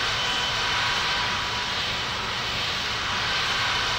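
A steady, unbroken aircraft engine roar in a pilot training simulator game as the plane taxis to the runway, loud and constant throughout with no talk.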